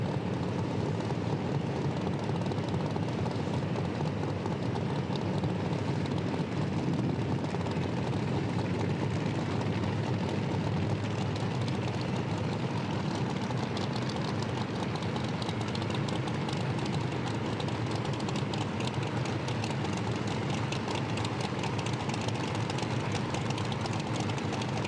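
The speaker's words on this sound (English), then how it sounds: "Muller with the Pontiac GTO here, 665 cubic inches of Billy Albert horsepower" A 665 cubic inch Pontiac GTO drag racing car engine at a drag strip, a loud, steady, sustained roar that fills the scene without letup for the full duration.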